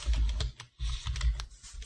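Typing on a computer keyboard while building a UDK gradient-mapping shader: fast, close clattering keystrokes in two bursts split by a brief pause, with no voice.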